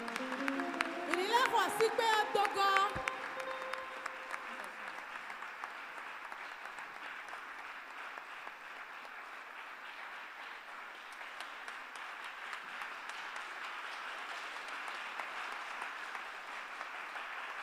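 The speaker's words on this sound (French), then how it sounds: "On acclame la présence du Seigneur." A church congregation applauds in sustained, dense clapping that carries on for many seconds, with a voice and a short musical phrase at the start.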